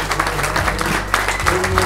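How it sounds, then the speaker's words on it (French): Steady applause from a concert audience at the Royale Factory, Versailles, dense and continuous with a few sharper claps standing out across the short stretch. "Versailles, applaudissez-vous."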